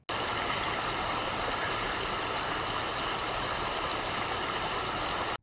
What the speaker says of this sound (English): the ambient noise of the waterfall is louder than they are